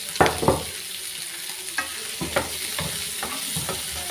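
Crushed shallots, garlic and chopped mild green chilli sauté in a hot pan for a Kerala raw plantain stir-fry, with a steady sizzle and several sharp scrapes of a spoon stirring through the mixture close by.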